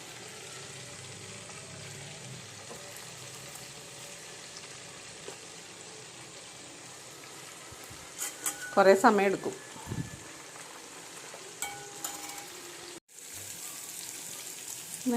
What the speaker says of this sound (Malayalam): അയിലമീൻ മേടിച്ചായിരുന്നു ആ വറുക്കാൻ വെച്ചേക്കണത് അച്ചാറിടാനുള്ള മഞ്ഞപ്പൊടി ഉപ്പും തിരുമ്മി വെച്ചേക്കുവാണേ ഇത് വറുക്കണം